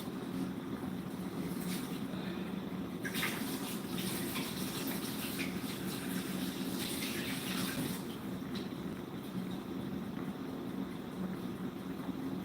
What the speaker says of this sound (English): Just rinse this, just in case there's anything that I don't want inside.